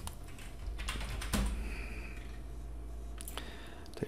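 Fingers tap on a computer keyboard in brief, irregular bursts of clicks at close range, with a steady low hum underneath and a louder thump partway through.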